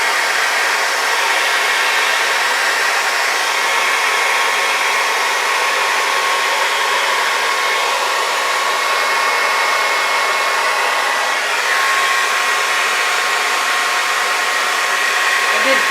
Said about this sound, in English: I did drag my blow dryer right through the paint.